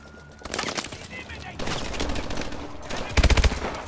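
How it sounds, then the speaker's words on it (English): A 4-round burst gun fires in Call of Duty: Advanced Warfare, several loud, rapid bursts of close gunfire, the last clearly four sharp shots in quick succession, amid battle noise. "It is a 4-round burst gun."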